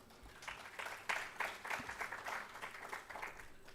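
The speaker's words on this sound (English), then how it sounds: "let's give one more time a warm round of applause to the" An audience applauds the Deputy Minister at an International Day for Universal Access to Information event, a loose, fairly thin round of clapping with uneven bursts that carries on for several seconds.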